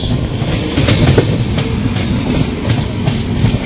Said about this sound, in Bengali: যে ট্রেন আসছে সেটা হচ্ছে পুরী যোগনগরী ঋষিকেশ উৎকল এক্সপ্রেস।